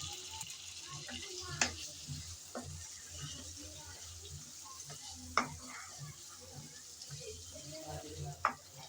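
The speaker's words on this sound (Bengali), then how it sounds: "আলুগুলো দিয়ে নেড়ে চেড়ে ভালোভাবে কষিয়ে নিতে হবে" Pre-fried potatoes being stirred and fried in a mushroom curry masala, with a steady soft sizzle under the scrape of a spoon and three sharper clinks of the utensil against the pan.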